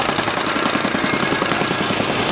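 A whacker packer plate compactor running on prepared subgrade during backfill work, a loud, close, continuous rapid thumping vibration over a throbbing engine drone.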